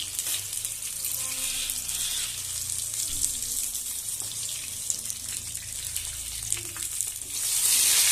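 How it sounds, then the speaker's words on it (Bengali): Ash gourd fritters fry in oil with a continuous crackling sizzle, punctuated by a few light scrapes and clicks as they are turned, and the hiss grows louder near the end. "এই পিঠটা ভাজা হয়ে গেছে, এবারে আমি উল্টিয়ে নিচ্ছি।"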